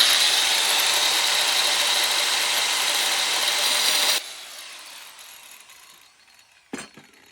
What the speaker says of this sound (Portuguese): Pega as esmerilhadeiras.